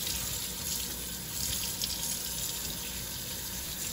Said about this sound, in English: We're gonna wash our sofrito.